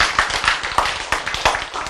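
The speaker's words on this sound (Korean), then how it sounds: "박수." An audience at a Korean lecture claps, a quick, uneven patter of handclaps from a small group, close and lively, lasting a couple of seconds.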